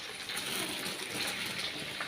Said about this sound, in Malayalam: അപ്പോൾ നമ്മുടെ വെള്ളം ഇവിടെ തിളച്ചിട്ടുണ്ട് കേട്ടോ